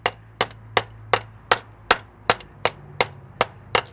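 A hammer taps a CV Birfield joint into the hub of a Land Cruiser 200, about eleven sharp metallic strikes falling in a steady, evenly spaced rhythm, close and clear with no talk.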